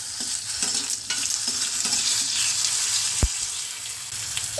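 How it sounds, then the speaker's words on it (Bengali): Jujube fruit dropped into a hot, scorched tempering of mustard seeds and curry leaves for a sour lentil dal, giving a loud continuous sizzle with stirring scrapes and a sharp knock, close up. "কুলটা দিয়ে দিচ্ছি।"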